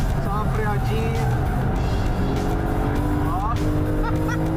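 A naturally aspirated Porsche Cayman is driven hard into a corner in third gear and then brakes, its engine roaring loudly throughout with rising and falling pitch and brief tyre squeal. A voice talks over it.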